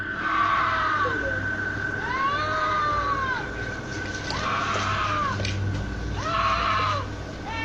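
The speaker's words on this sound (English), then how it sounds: "You can hear a woman scream." A woman screams outdoors at night, three long rising-and-falling wails at a distance, each several seconds long and separated by pauses, over a constant low background hum.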